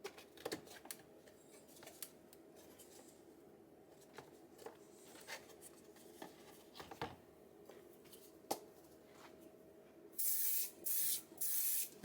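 CA glue activator is sprayed onto a freshly assembled French cleat shelf in three short hissing bursts near the end, after a stretch of quiet clicks and handling sounds.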